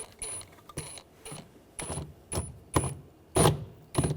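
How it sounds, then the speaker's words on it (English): A ratchet with a T20 socket turning out screws from a BMW 328i door, making a series of rapid, faint clicking bursts in a steady rhythm, close by and with no talk. "Using a T20 socket, there's 3 screws. You want to take those out."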